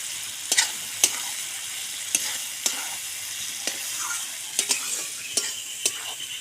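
Spice masala cooked down in oil sizzles steadily while duck eggs are turned through it, a spatula knocking sharply against the pan every second or so, close and distinct, with no talk.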